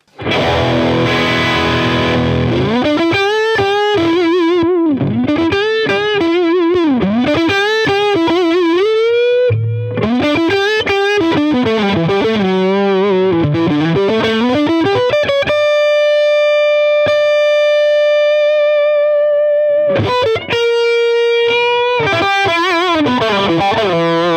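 A loud distorted electric guitar through an amp and extension cab plays bending lead lines, then holds long ringing notes before launching into more riffs.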